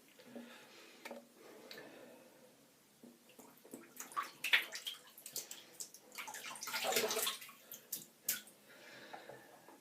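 Water running and splashing from a tap to wet a synthetic shaving brush, with irregular dripping and gurgling that swells in the middle, fairly close and alone.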